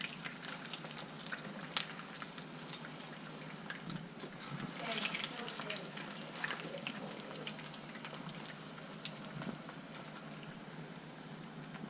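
Giant homemade Doritos-style chips sizzle and crackle in hot oil, a faint continuous frying hiss with scattered pops, with quiet kitchen handling noises and no clear speech.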